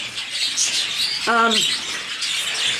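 A pet bird gives a single short harmonic chirp midway, close and clear, over a soft background of faint high twittering from other birds in a nesting setup.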